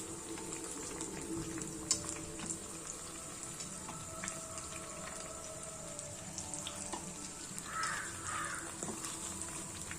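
Oil bubbling as eggplant fritters deep-fry steadily in a pan, a continuous soft crackling hiss with occasional light pops and faint background noise, no voices.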